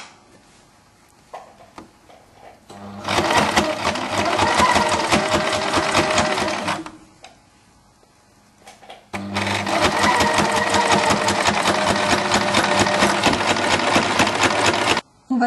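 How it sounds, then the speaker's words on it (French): A sewing machine stitches along the edge of a removable Peter Pan collar, two long steady runs of fast whirring and clattering separated by a quiet pause, close and loud. "On laisse la machine dans le tissu."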